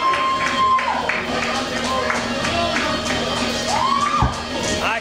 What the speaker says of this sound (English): Look at this crowd. This crowd is unbelievable right now.